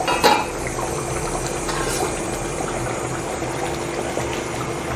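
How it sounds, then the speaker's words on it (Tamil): Chettinad chicken curry bubbling in a pot, a steady low simmering burble with faint clinks of utensils, close and fairly quiet, no voices. "நல்லா கொதிச்சிருச்சு பாருங்கள் குழம்பு."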